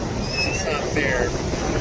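Steady sea wind gusting across the microphone at Akumal, Mexico, a constant rushing roar with no pauses.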